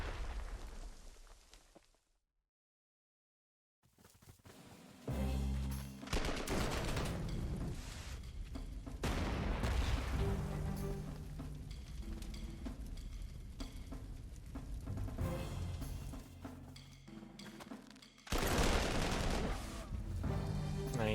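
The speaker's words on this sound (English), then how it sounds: "Artillery." Panzer Corps 2 artillery fire in a World War II strategy game: a brief silence gives way to heavy, booming barrages and rumbling explosions that roll on loudly for many seconds.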